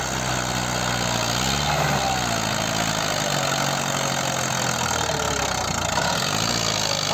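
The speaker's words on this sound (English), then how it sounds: "The engine roars under strain, mud splashes from the tires," A heavy tractor engine drones and labors steadily, pitch rising and falling as it strains under load, pulled out of a frozen glacial river with tires in mud, loud and close throughout.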